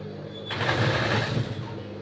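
A sewing machine stitches across a lined blouse in a short burst of rapid, buzzing needle strokes that starts abruptly and runs for about a second, close by and fairly quiet.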